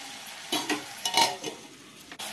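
A spoon scrapes and turns mutton curry with tomatoes and salt in a pan, several distinct stirring strokes over a soft steady sizzle, close and fairly quiet with no voices.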